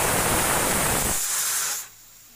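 A pressure cooker cooking chicken biryani lets out a loud, steady, hissing whistle that holds for nearly two seconds, then cuts off abruptly into near quiet.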